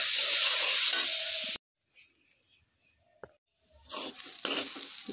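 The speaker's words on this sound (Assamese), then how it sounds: "নাৰিকলটো ভাজি লওঁ।" Grated coconut frying and being stirred in a pan, prepared for a Magh Bihu dry rice pitha: a loud steady sizzle with scraping, a sudden pause of near silence, then the sizzling and stirring resume.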